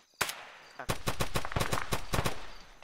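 Gunfire in Arma 3 zombie mode: one sharp shot, a short pause, then a fast burst of about a dozen close, loud reports in quick automatic rhythm, with no voices over it.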